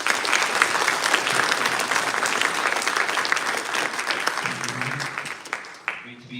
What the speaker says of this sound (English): Without further ado, give a round of applause for Mr.